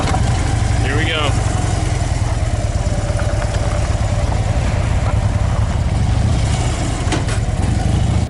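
A motorcycle rides along Gold Mine Road, part of a winding switchback route in Pennsylvania, with a steady engine drone under heavy wind rush throughout.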